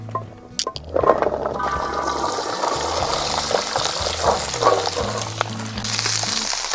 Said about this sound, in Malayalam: എണ്ണ നല്ലപോലെ ചൂടായിട്ടുണ്ട് അപ്പോൾ ഈ വെളുത്തുള്ളി നമുക്കൊന്ന് ഉരുളിയിലേക്ക് ഇട്ട് കൊടുക്കാം